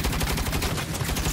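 Rapid turret gunfire from the video game Saints Row rattles continuously at close range, a dense, steady stream of shots with no pauses over the short span.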